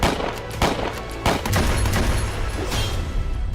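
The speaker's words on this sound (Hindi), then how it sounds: "रक्षा मंत्री ने सुनी गोलियों की तड़तड़ाहट" Gunfire at the Washington Hilton hotel, a rapid burst of several sharp shots followed by scattered further reports over a noisy background.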